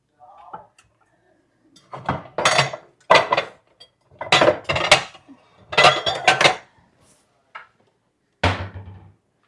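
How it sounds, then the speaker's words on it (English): Fresh strawberries sliced and dropped into a dish in a home kitchen, a series of clustered knife-and-dish clatters in separate bursts with quiet gaps between, ending in a final knock. "we'll slice up some of these strawberries and put them in this dish right here"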